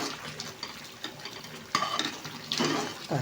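A foaming coconut burfi mixture is stirred in a pan, with bubbling sizzle under repeated scraping and clinking of a spoon against the metal, close and fairly loud.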